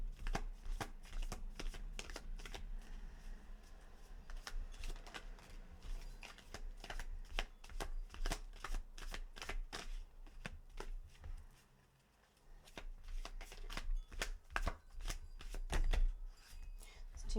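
Tarot cards being shuffled by hand, a steady run of crisp riffling flicks and slaps close up over about seventeen seconds, briefly pausing before resuming, with faint background hum.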